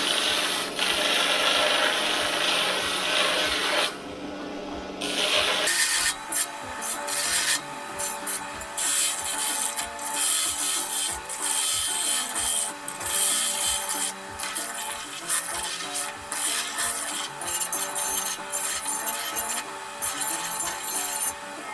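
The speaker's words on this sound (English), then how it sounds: "I'm going to go ahead and clean it up on the belt sander now." A belt sander smooths a metal bracket, giving a steady grinding rasp up close, briefly easing off around five seconds before resuming with rhythmic scraping as the piece is pressed and moved against the belt.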